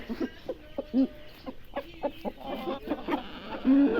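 A hen clucking nearby in short, irregular bursts with a few drawn-out squawks, close and clear over quiet background.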